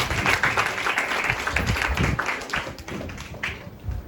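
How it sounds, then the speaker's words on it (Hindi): Applause from an audience welcoming a speaker at a meditation talk, a dense patter of clapping hands that holds steady for a few seconds before thinning, moderately loud with faint voices mixed in. "एक बार उनका और तालियों के साथ वेलकम करें"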